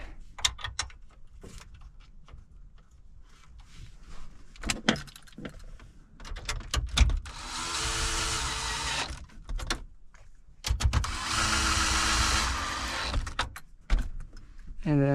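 Power screwdriver driving screws into a 1998-2007 Chevrolet Silverado climate control panel, two sustained whirring bursts of about three seconds each, close up, between scattered clicks and plastic handling noises inside the truck.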